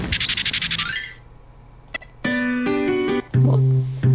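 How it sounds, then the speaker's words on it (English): Plucked bass notes from the string family in the Jumpstart Music PC game, a few sustained tonal notes following some chirpy game effects, fairly loud and close with no voices. "This is a bass. A bass belongs to the string family."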